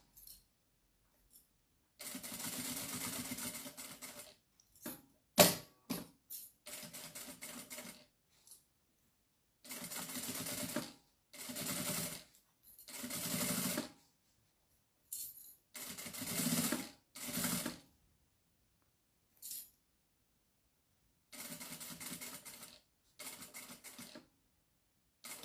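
A sewing machine runs in short, stop-start bursts while stitching all the way around a fabric bag, some bursts only a second long, with quiet gaps between and no voices.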